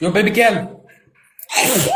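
A woman sneezes loudly and close during a sneezing fit on a livestream, one sharp burst following a man's spoken greeting, with another voice starting right after.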